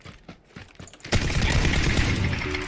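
PUBG gunfire, a sudden loud burst of rapid shots that starts abruptly after a quiet moment and continues as a dense close rattle to the end.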